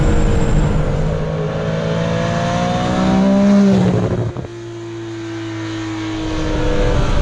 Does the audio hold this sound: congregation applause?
no